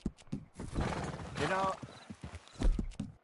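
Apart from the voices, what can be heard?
horse walking and whinnying, video game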